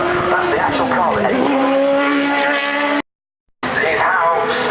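A loud 1970s Grand Prix race car engine roars close by at Goodwood Festival of Speed, its pitch rising and falling through gear changes, with tire squeal, then a brief cutout before the roar returns.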